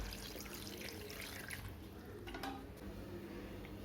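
Water runs and splashes into a pot of mutton, a faint, steady pour with a few louder splashes partway through.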